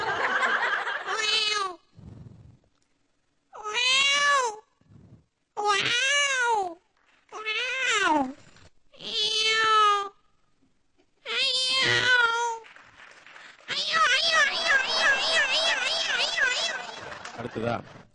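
A voice imitates a cat, giving a string of short rising-and-falling meows separated by pauses, ending in a longer, wavering yowl.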